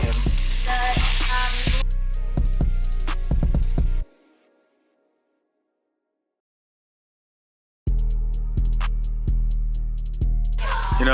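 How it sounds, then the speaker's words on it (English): Onions sautéing in a pan over medium heat, a steady close sizzle with stirring clatter that cuts off to near silence midway before resuming. "sauteing these onions"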